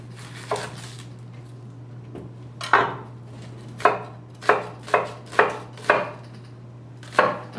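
A knife chops a red onion on a cutting board in a home kitchen, with about nine separate crisp thuds, spaced unevenly at first and then coming in a quicker, steadier run, close and clear with a low hum behind.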